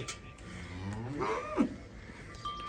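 A calf lets out a single drawn-out moo, rising then falling, at moderate distance in a quiet setting.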